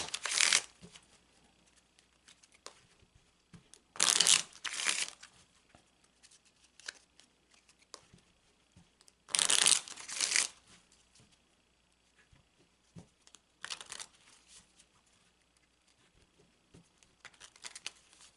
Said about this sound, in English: we're going to go ahead and shuffle the cards some more just to mix them in throughout